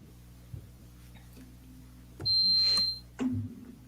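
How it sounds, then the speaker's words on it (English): A single sustained high electronic beep of about a second, clear and steady over a low background hum, with a few soft knocks around it. "Is that beep on my end?"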